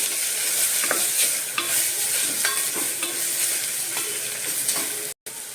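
Dal being stirred in a pan with chilli powder, salt and asafoetida, a loud continuous sizzle broken by regular scraping strokes of a spoon, cut off briefly near the end.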